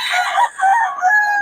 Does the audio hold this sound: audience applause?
no